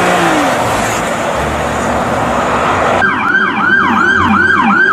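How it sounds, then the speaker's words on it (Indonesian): A Toyota Fortuner police car's siren wails loudly and close, a rapid rising-and-falling cycle that sharpens and grows clearer halfway through over steady road noise. "yang terakhir ada mobil Fortune polisi"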